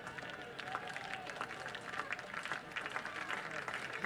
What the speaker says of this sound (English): The crowd trying to urge Kavan on to get the last out here in the top of the first inning